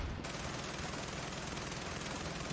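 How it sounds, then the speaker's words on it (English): Sustained minigun fire from the video game Far Cry 6, a dense, continuous roaring burst of rapid shots that fills the clip from start to finish at steady loudness. "But miniguns are cool."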